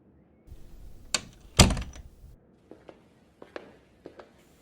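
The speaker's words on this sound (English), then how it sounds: "Malcolm, thanks for using the side door" A side door opening and closing indoors: a couple of sharp thunks followed by a louder bang with a low rumble, then several lighter clicks and taps trailing off, close by with no talk.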